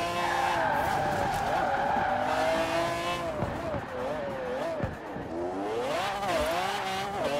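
A very fast race car in Forza Horizon 4 screams through hard acceleration, its engine pitch climbing and dropping through gear changes amid loud tire squeal and skidding, with a voice talking over it.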